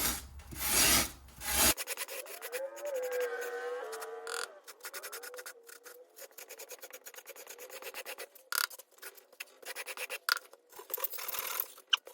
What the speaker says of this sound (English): I think I'm gonna have to rasp.